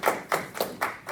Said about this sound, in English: Okay, wait, we should clap.